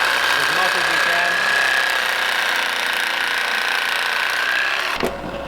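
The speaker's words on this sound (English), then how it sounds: "Just use the Sawzall, cut the bushing out as much" A Sawzall reciprocating saw cuts out suspension bushings on a Nissan 240SX, a loud, close, buzzing rattle running continuously before cutting off abruptly near the end.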